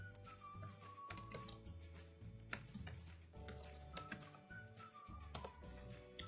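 Keys clatter on a computer keyboard in quick irregular bursts while typing into a browser, close and faint with a steady tonal hum underneath and no talk.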